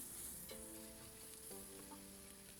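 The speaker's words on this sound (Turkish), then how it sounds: "Öbür tarafında aynı şekilde kızartacağım arkadaşlar." Soft, steady sizzling of meat frying in a pan, with a faint crackle and a few tonal clinks from utensils; no voices.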